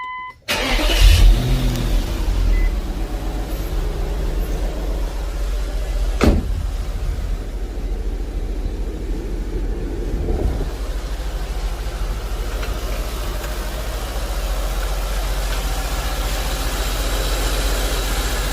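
A V8 engine (VK45DE) in an Infiniti M45 cranks and fires up, then settles into a smooth, steady idle. The idle holds close and even, with no talking, after a new tensioner pulley has been fitted.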